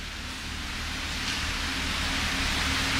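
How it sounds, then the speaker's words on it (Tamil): Heavy rain falling outside at night, a dense, even hiss that swells slightly louder as it continues, with no voices over it. "அப்பத்துலேருந்தே செம மழை பேஞ்சிக்கிட்டு தான் இருக்குது."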